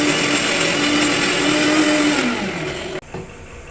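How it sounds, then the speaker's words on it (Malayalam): Electric mixer grinder whirring loudly as it grinds spices and coriander powder into a paste, a steady close motor drone that drops in pitch near the end and cuts off abruptly, with no talking. "നല്ലോണം പേസ്റ്റാക്കി അരച്ചെടുക്കാൻ പോവാണേ"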